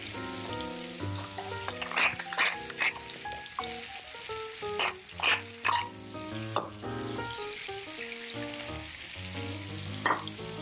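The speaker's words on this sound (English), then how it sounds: "We're going to saute this until everything is tender crisp, about 8 minutes, and season it with salt and pepper." Onions and peppers, along with asparagus, sauté in butter in a pan, giving a steady, close sizzle and crackle with a few louder spits and stirring scrapes. Soft background music plays underneath.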